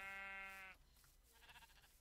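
A sheep in a modded Minecraft game lets out one clear, wavering bleat up close, followed by faint rustling background noise.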